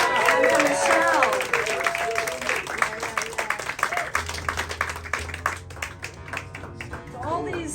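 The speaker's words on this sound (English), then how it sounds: "applause for that pedal steel" Audience applause for a pedal steel player at a live music show: a burst of clapping from a modest crowd that thins into scattered claps while a voice talks over it.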